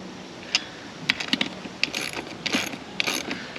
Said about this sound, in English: But I chose to use my own ratchet because it's a lot faster.